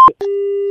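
A telephone busy signal after a call cuts off: a short click and beep, then a loud, steady tone held for about half a second before stopping abruptly.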